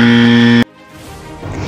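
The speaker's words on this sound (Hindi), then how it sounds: "टीम शमा और टीम मोमिन ने एक साथ बजर बजाया है।" Loud, steady electronic quiz buzzer pressed by competing teams at a quiz show, a harsh tonal blast lasting about half a second before cutting off abruptly into quieter room noise.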